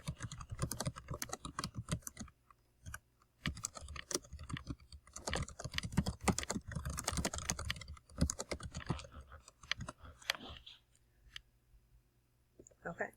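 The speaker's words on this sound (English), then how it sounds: "now I went ahead and I typed in my sentence from the text" Fast bursts of close computer keyboard typing with clattering keystrokes and short pauses as a sentence is entered, no talk heard.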